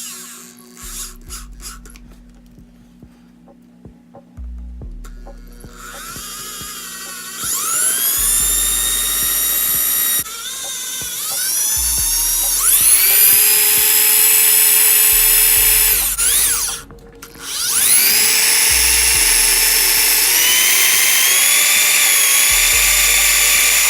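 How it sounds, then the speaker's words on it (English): A power drill whines loudly in repeated bursts, spinning up to a high pitch, bogging down as it bites into a Mitsubishi Evo 8 bumper, then revving again, close by. "I'm gonna go ahead and drill the bigger hole on this side"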